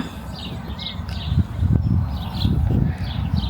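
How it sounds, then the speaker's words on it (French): Outdoors on a quiet day, small birds chirp faintly in short, repeated bursts over low rumbling background noise. "Mais juste écoutez s'il vous plaît les oiseaux."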